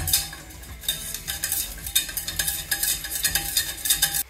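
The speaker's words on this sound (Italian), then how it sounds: "A questo punto farina. La facciamo tostare un attimino." Flour toasting in a pan for a béchamel, stirred continuously with a utensil, giving a steady close scraping and soft sizzling hiss that swells and fades in gentle strokes, with no talking.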